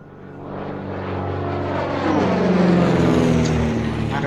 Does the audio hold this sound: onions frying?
no